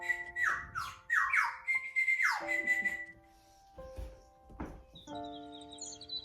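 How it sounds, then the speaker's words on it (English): Recorded birdsong plays indoors through a speaker: bright squawks and clear sustained whistled notes in bursts, separated by short pauses, fairly close and moderately loud. "I was having quite a fun time with these bird songs."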